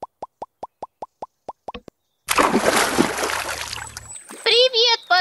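Water splashing in a swimming pool: a quick, evenly spaced row of small plops, a short pause, then a broad, loud splash and slosh lasting about two seconds, followed by a high, childlike voice speaking.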